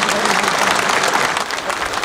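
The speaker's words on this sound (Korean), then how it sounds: "여러분, 큰 박수 부탁드립니다." Dense, steady applause from a large audience at the signing of an investment agreement between Gwangju city and Hyundai Motor for a car factory, filling the whole stretch at an even, loud level.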